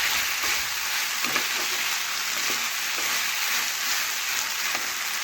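Chopped vegetables with stalks sauté in a pan, giving a steady, close hiss of frying with a few soft stirring knocks and no talking.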